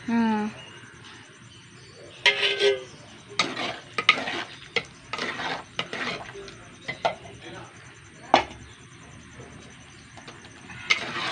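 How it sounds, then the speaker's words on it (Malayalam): Loosened curd poured into a hot curry pan for an Onam sadya dish, followed by repeated spoon clinks and stirring scrapes against the pan under soft sizzling, with someone talking in bursts. "തൈര് ഒഴിച്ചു കൊടുക്കട്ടെ"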